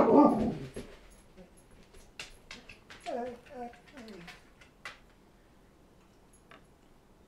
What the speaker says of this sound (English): But Emma, that is my dog getting upset at one of my cats.